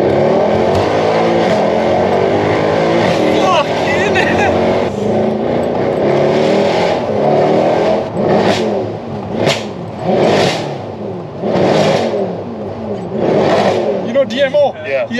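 A Mercedes C63 AMG engine revs and accelerates hard on the street with loud repeated surges and gear changes, heard from inside the car while people talk over it.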